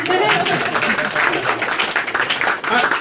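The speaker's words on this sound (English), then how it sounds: "When I say my poem, now y'all clap." An audience claps for a poem at a spoken-word event, a steady, dense patter of applause mixed with loud voices and cheers.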